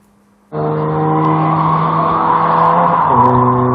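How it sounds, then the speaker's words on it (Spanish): Car engines roaring at high revs during illegal weekend street racing at the Mirador de Humboldt in La Orotava, Tenerife; a loud sustained engine note kicks in abruptly and holds, shifting pitch near the end. "la zona del Mirador de Humboldt se convierte cada fin de semana en un circuito de carreras ilegales de coches"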